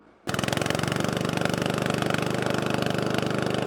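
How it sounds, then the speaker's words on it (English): A remote-controlled industrial mower's small engine starts abruptly and runs at a steady, loud, rapid chugging idle, close to the microphone with no speech. "The second switch is used to control the engine start and stop."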